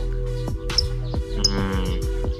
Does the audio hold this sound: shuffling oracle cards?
no